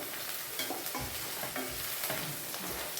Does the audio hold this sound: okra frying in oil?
yes